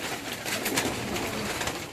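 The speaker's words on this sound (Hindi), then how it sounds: "ये स्लेटी भी कबूतर भी देखें" Slate-grey and golden fancy pigeons cooing together in a loft, a dense continuous murmur of soft calls without speech.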